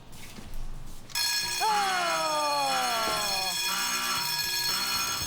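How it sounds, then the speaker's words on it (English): A loud, continuous electronic alarm starts abruptly and rings steadily, with a descending tonal sweep partway through and faint background noise underneath. "With the alarm ringing"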